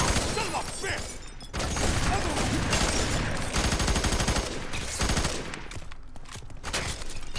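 Rapid automatic gunfire and bursts of shots from the F.E.A.R. 3 shooter game in a prison level rattle loudly and almost continuously, with brief lulls, while players talk over the shooting.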